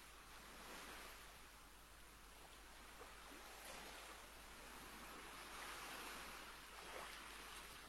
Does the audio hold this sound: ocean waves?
yes